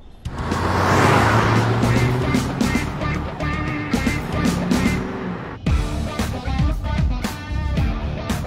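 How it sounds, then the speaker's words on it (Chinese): A Chevrolet Camaro engine runs loud and close for about eight seconds, a steady rumbling roar that swells early, then dips and surges again near the end with no talk over it. "科迈罗就是牛啊，听你发动机声音都好听"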